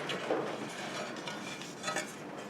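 Removable grill plates from a George Foreman Rapid Grill clatter and scrape as they are handled close by, with a few light metallic knocks over a steady room hiss.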